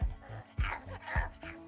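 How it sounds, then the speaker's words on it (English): A dog gives a quick run of short yips and barks, three or four sharp bursts in under two seconds, fairly close and with no talking over them. "There's a dog!"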